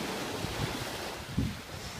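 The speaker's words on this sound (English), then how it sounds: "You got the waves" Ocean surf on a beach in Japan at sunset, a steady wash of waves with a couple of louder swells breaking nearby, mixed with wind rumble on the microphone and no voices.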